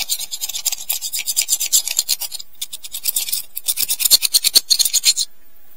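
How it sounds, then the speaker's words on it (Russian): An old needle file scrapes grime out of the inside of a Soviet folding hunting knife, giving a quick run of bright, close rasping strokes in uneven bursts with a brief pause midway and no talking. "Я его использую для чистки складных ножей внутри. То есть берем и просто вот вычищаем всю эту грязь оттуда."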